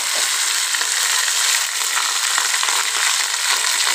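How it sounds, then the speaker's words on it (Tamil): Mustard seeds crackle and spatter in hot oil, a loud, dense, continuous sizzle with rapid popping close by. "கடுகு பொரிஞ்சிருச்சு"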